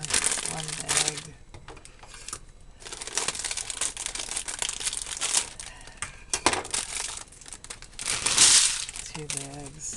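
A plastic bag of potatoes crinkles and crackles loudly in bursts as it is emptied into a casserole dish, close by, with a person talking between the rustles.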